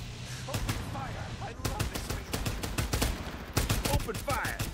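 Gunfire in the Farlight 84 battle-royale game rings out in rapid bursts of sharp, loud cracks, with a short pause before a second, longer volley of repeated shots.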